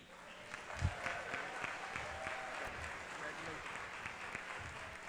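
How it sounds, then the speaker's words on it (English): Faint, distant applause from an audience at an awards gala, a soft continuous patter with a few louder claps and low crowd murmur, heard from afar. "give them another round of applause"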